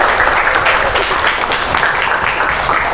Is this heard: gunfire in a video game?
no